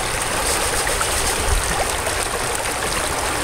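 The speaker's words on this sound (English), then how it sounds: "We're running this water a little bit slower today." Water runs steadily through a large gold sluice, a broad continuous rushing wash with a fairly slow flow, close and loud with no talking.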